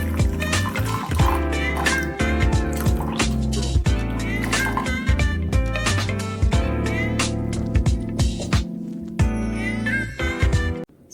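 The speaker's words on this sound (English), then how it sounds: "I'll just pour 1 cup coffee" Coffee from a Morphy Richards Europa espresso machine poured into cups: liquid splashing and trickling in repeated close pours, with clinks of cups between, stopping abruptly at the end.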